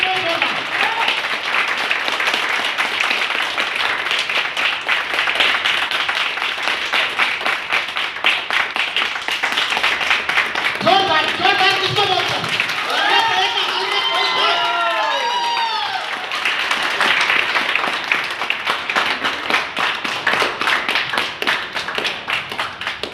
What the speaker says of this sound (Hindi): गुरु कंपनी के एमडी श्री रमेश सर के लिए एक बार जोरदार ताली होनी चाहिए।